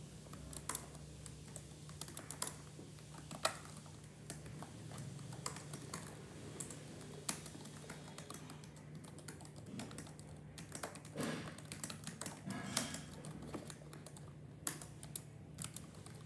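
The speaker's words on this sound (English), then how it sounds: "You see the keyboard racket making an awful racketing sound?" Typing on a computer keyboard while writing a script, rapid irregular clicks and taps at close range that continue steadily throughout over a low background hum.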